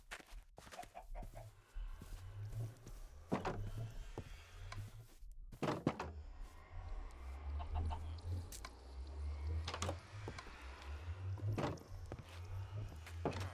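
Chickens clucking in the Minecraft video game, soft repeated low clucks with short sharp clicks and thunks over a steady game background, no talking.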